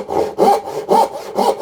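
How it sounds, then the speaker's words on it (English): A hand saw cuts wood for dovetail joints, giving steady back-and-forth rasping strokes, about four strokes in a close, even rhythm with no talking. "we're just going to cut dovetails"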